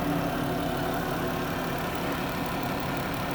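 The 3.6 V6 engine of a 2013 Chrysler Town and Country Limited mobility van idles smoothly, a steady, even low hum heard close up with no one speaking.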